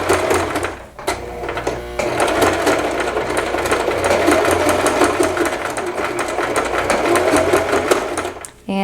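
Sewing machine running steadily through fabric in one long continuous stitching pass, fast rhythmic chatter close and loud, briefly pausing near the start and for a back stitch before resuming.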